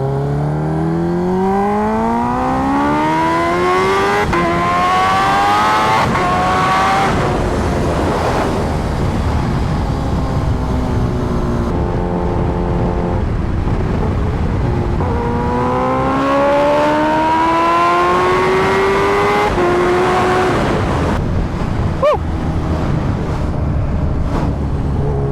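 A Kawasaki Ninja H2R motorcycle engine idles unevenly, its pitch rising and falling in repeated swells as it revs up and drops back, loud and close with no talking.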